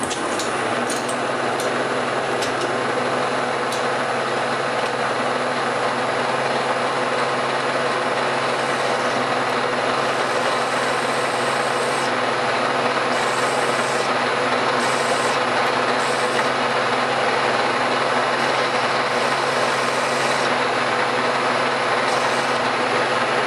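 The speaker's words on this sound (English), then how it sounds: "So I got a regular center cutting end mill in there." A milling machine runs continuously with a center-cutting end mill, a steady motor hum and a gritty cutting whine, loud and close, with occasional brief high-pitched squeals.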